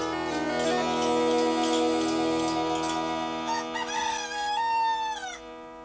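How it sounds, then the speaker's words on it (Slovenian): An animated rooster in a Slovenian children's cartoon crows in a long, bright, drawn-out call lasting several seconds with strong tonal harmonics, loud and close, then fading at the end. "Če bi Petelin zjutraj ne zapel, bi še vsi drnjohali kot trnjulčica."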